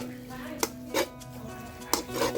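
Minced pork stir-fries in a pan for Thai nam prik, with a few sharp clinks and scrapes of a spatula against the pan over a low background hum.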